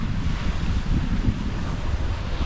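Gusty wind blows across Chesil Beach at Ferrybridge, a loud continuous rumble with sea surf mixed in, buffeting the microphone with no voices.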